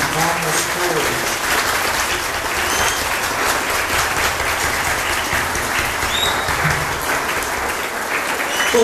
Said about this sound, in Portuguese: Nós os saudaremos, em modo especial, com uma salva de palmas para eles.